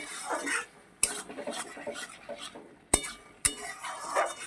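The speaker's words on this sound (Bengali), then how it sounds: "এবার একটু ভালো করে মিশিয়ে নামিয়ে দেব" A spoon stirs spinach curry in a cooking pan as sugar and coriander leaves are mixed in. Soft scraping runs throughout, broken by three sharp metallic clinks of utensil against the pan.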